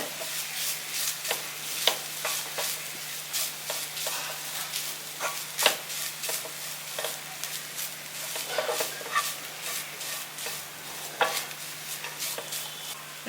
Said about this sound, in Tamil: போட்டு தேங்காய் வந்து நல்லா ட்ரை ஆகிற அளவுக்கு வதக்கிங்க சிம்மிலே வச்சுக்கோங்க